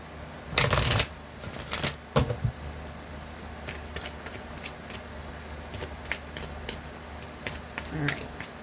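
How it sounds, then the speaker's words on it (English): A deck of tarot cards being shuffled, starting with a loud riffling burst and then a run of softer, irregular card flicks and slides up close. "let's get a good shuffle"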